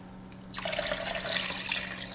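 Filtered water pours steadily into a crock pot beside a whole chicken for bone broth, a close, continuous rushing splash that starts abruptly and keeps going under a low steady hum.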